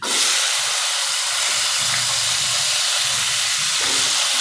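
Carrots dropped into hot oil already seasoned with cumin and asafoetida, giving a steady, loud hiss that sizzles evenly throughout with no talking over it.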